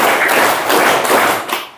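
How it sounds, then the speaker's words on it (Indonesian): Group of schoolchildren clapping together in a classroom, a short burst of roughly four loud claps that are not perfectly in unison, close and fading out at the end. "Tepuk empat."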